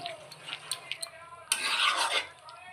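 A spoon stirring milk into navratan curry in a pan, scraping and clinking against the metal in short strokes before a longer, louder stretch of rubbing and gentle sizzling.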